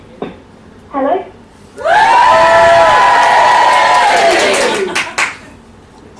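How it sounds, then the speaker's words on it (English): A live audience in a room bursts into loud cheering, whooping and clapping as a phone call to a runner named Elise is answered, a dense swell of voices lasting a few seconds before fading. "Big cheer when she picks up"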